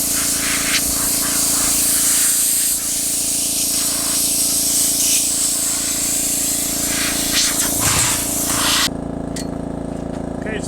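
Compressed air blasts steadily from a nozzle to dry rust-inhibitor-treated saw blades, a loud continuous hiss that runs unbroken for about nine seconds before cutting off to quieter background.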